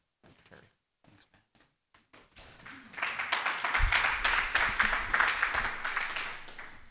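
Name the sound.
audience applause for the first speaker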